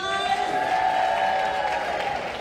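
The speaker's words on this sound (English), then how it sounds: "give them a big round of applause" A conference keynote audience claps for a group of interns, a continuous wash of applause from a large crowd with some tonal sound held underneath.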